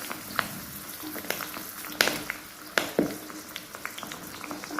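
Curry leaves and aloe vera fry in hot oil, a constant bubbling sizzle broken by several sharp crackling spits and pops at irregular moments.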